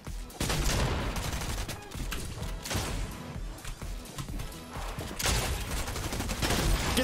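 Fortnite gunfire crackles in a dense, ongoing volley of rapid shots, loud bursts with brief lulls between them throughout.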